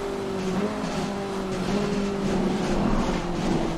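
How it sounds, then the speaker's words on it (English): A race car in the Assetto Corsa Competizione racing game aquaplaning on a wet track: a steady, droning engine note sits under a continuous loud hiss of tyre spray, with no pauses. "there's some more aquaplaning. You can hear it on the tyres"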